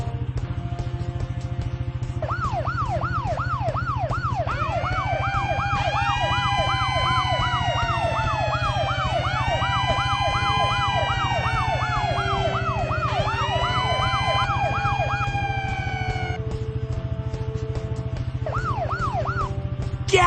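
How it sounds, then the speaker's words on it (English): Cartoon fire truck sirens in a Blaze and the Monster Machines firefighter game, several overlapping wailing sweeps that rise and fall in repeated cycles over a steady musical hum, loud and close throughout with short whoops near the start and end. "To turn our sirens on and off, use your mouse to click on the fire trucks."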